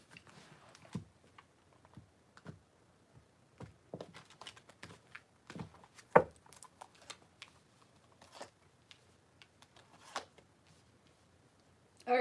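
Tarot cards shuffled by hand in soft, scattered bursts of riffling and tapping across a quiet room, with occasional louder snaps and no talking.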